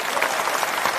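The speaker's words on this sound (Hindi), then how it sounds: "एक जोरदार ताली" An audience at a Jan Suraaj party gathering gives a brief burst of dense, steady applause, many hands clapping at moderate volume.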